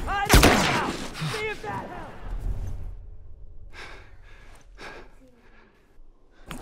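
A single loud sniper shot rings out at the start in The Last of Us gameplay, followed by fainter distant cracks and rustling while someone talks throughout.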